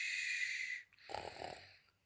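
A storyteller's voice imitates a snore in a children's farm-animal tale: a long, steady breathy rasp, a short pause, then a second rougher, throaty snort, close and fairly loud.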